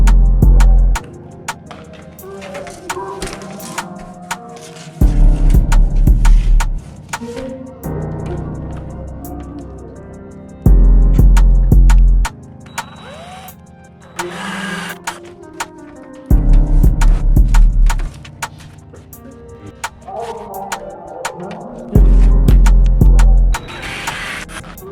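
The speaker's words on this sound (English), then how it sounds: "I'm going to drill the holes a little bit bigger than these holes here" A drill bores holes for Porsche door pulls in repeated whirring bursts of about two seconds each, five in all, with quieter handling noise in the gaps between them.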